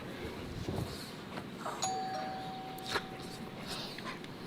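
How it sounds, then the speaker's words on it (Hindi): A doorbell chimes once, a clear bright electronic tone held for about a second, heard indoors under ongoing talk and room noise. "ये भौंकता नहीं है लैला, तो भौंकती है घंटी बजते ही।"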